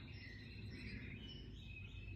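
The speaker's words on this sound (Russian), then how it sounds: "я делаю некоторые паузы, чтобы услышать прекрасное утреннее пение птиц" Morning birdsong in a Bulgarian village: faint, continuous chirping and tweeting at a distance over a quiet outdoor background, with no talk.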